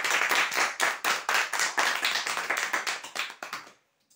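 Applause from a crowd at a prize draw announcement, a few seconds of brisk steady clapping that tapers off and stops abruptly.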